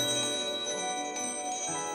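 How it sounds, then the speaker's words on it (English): A small silver bell rings in an animated fairytale, its bright, shimmering tone sustained and ringing on steadily for about two seconds over soft music. "Again, the mouse rang her silver bell."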